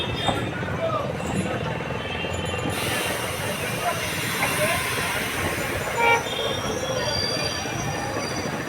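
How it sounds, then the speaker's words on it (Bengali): A train approaches and passes beneath a bridge, a continuous loud rumble of wheels and rails with thin squealing and a brief horn-like tone, while people talk over the noise. "ওই দেখো ট্রেন আসছে"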